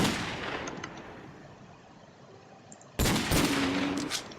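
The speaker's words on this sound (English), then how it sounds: "I'm gonna have to finish this thing off point blank range" A golden Desert Eagle firing in a Minecraft gun mod, a sharp loud shot bursting in after a fading echo, followed by a couple more close reports.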